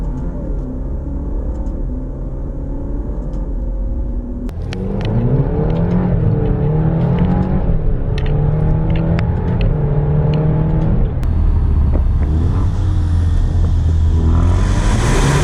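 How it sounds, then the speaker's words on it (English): The 2-liter inline-four engine of a 2020 Alfa Romeo Stelvio hums low and steady, then rises in pitch as it accelerates, a close, moderately loud exhaust drone with no voices. "the exhaust, 2-liter inline 4, it's not going to sound like much at all"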